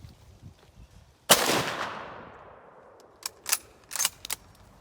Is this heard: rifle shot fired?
yes